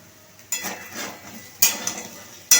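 Green chillies and a little sugar being stirred through a vegetable curry in a pot: three bursts of spoon scraping and clinking against metal, close and moderately loud, with quieter pauses between.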